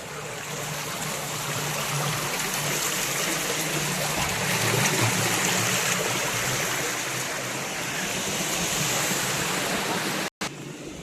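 Steady rushing water at a hidden outdoor spot in Pudukkottai, a continuous broadband wash of flowing stream or runoff that stays loud and unbroken for the whole stretch, with a brief dropout near the end.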